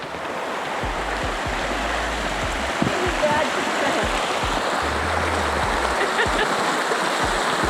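Water of Nile Creek rushes steadily beside a bridge, a continuous broadband wash with a few soft low thumps underneath, close and even throughout.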